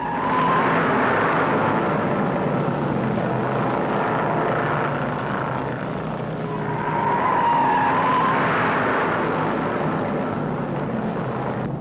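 Stock cars roar around the 1961 Daytona 500 at over 150 mph, a dense, steady engine drone that swells and fades as the pack thunders past, loud and continuous with no talk.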